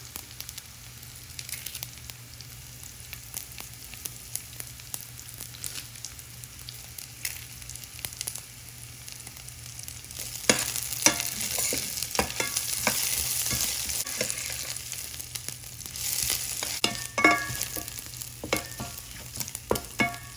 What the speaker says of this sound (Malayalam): ചെറിയുള്ളിയും കറിവേപ്പില മൂത്തിട്ടുണ്ട്.